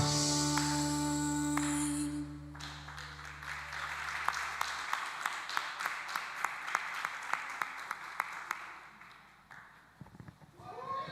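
Applause from a church congregation, a steady rhythmic clapping at moderate distance that follows a sung children's hymn and carries on alone for several seconds before fading.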